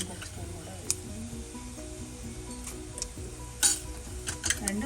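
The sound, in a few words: mustard seeds and cumin sizzling in hot oil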